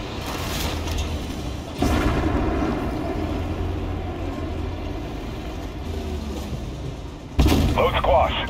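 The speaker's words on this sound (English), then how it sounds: "Smoke grenade, out." A tank in the Armored Warfare video game, an FV101 Scorpion in a PvE operation, launches smoke grenades with a sudden loud boom that cuts through a steady engine rumble, another blast following near the end.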